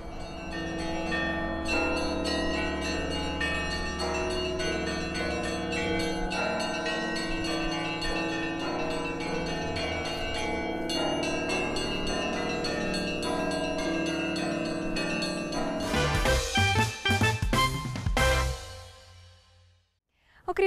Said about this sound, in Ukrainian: і коли він дзвонить, то голос його чути далеко від Софійської площі.